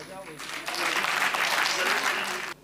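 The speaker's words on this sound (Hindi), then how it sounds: "ताली बजाओ।" Audience at a Hindi comedy poetry recital (hasya kavi sammelan) breaks into clapping, a dense burst of applause swelling up after a brief opening and holding steady and loud until cutting off.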